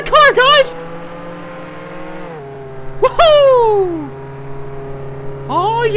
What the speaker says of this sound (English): Oh yeah, we're speeding around town now.